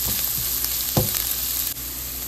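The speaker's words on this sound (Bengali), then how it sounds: "রসুন কুচনো, আদা কুচনো আর লঙ্কা কুচনো দিয়ে দিলাম, দিয়ে এটাও এখন একটুক্ষণ ভেজে নেব" Chopped garlic, ginger and green chili fry in a pan with a loud, constant sizzle and a few dull stirring knocks, no talking.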